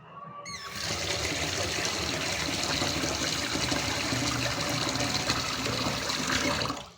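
Water gushes and swirls over soaked wheat and corn being washed, a continuous splashing rush starting after a short gap and staying steady and close, with no talking.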